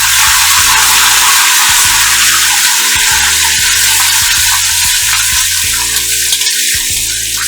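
Mustard seeds, cumin, fenugreek, dried red chillies and curry leaves fry in hot oil for a wood apple curd chutney, giving a loud, steady sizzle throughout over a low, droning hum.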